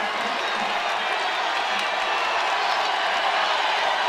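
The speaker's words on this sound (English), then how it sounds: "Crowd making some noise in Castle" Basketball arena crowd roaring during a tied women's college game late in the fourth quarter, a loud sustained wall of cheering and clapping that swells slightly toward the end, with faint talk beneath.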